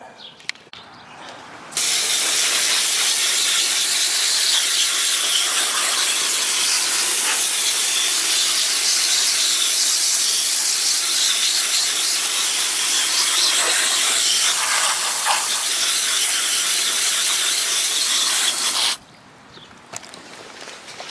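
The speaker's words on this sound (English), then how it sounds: "I think I'll spray off the evaporator coil real quick." A steady, loud hiss of water sprayed onto a Whirlpool Coolerator air conditioner's evaporator coil runs almost unbroken for most of the clip, starting and stopping abruptly.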